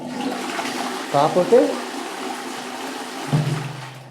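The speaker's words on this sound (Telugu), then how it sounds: "ఇప్పుడు చుట్టుప్రక్కల పడుతుంది, ఫాస్ట్ ఫ్లష్ అయిపోతుంది" A washroom toilet flushing fast after a repair that raised its water flow, a loud rushing torrent with gurgling surges that swells and ends in a deep draining glug.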